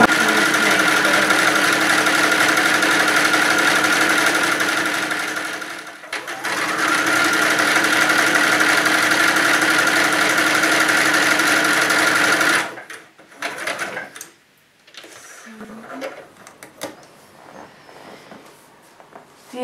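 Sewing machine stitching an elastic seam on light fabric for a hooded loop scarf, running steadily and loudly for about twelve seconds with a brief pause, then stopping into quieter handling noises.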